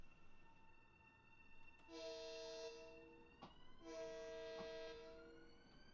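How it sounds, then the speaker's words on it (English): Long Island Railroad train horn sounding two long sustained blasts, each lasting under a second, at moderate distance over steady low rumble of the passing train in snowy weather. "So that train's going by."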